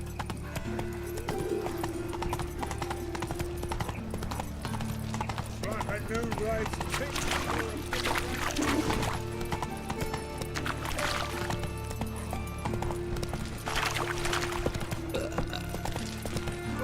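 Hooves of the horse Roach pound in a steady galloping clip-clop with an occasional whinny in the game The Witcher 3, running continuously under a low ambient drone with a voice speaking over it.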